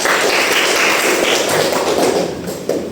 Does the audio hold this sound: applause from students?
yes